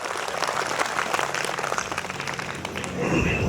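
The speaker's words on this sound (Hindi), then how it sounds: "चलिए एक बार ताली बजा दीजिए" Crowd at a Hindi poetry gathering applauds in a continuous wash of claps, fairly close and even, swelling a little near the end.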